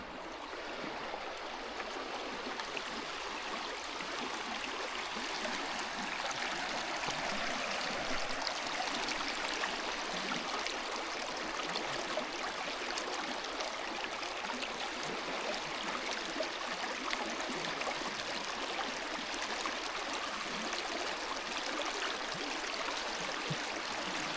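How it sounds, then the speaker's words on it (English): Rushing stream rapids of oxygenated water at a trout fishing spot, a steady broadband roar that stays constant and fairly close throughout, with no voices. "It's got the rapids right there, and there's a nice calm right here."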